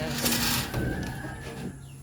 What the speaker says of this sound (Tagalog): magpapakain tayo sa ating mga manok